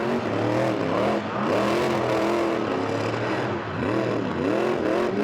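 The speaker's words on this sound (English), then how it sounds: "It's the Gulf Western Oil Corvette burnout car of his, smoking it up for the fans" The Gulf Western Oil Corvette burnout car doing circle work at Sydney Dragway, its engine roaring loud and continuous with repeated rising and falling revs over tyre squeal.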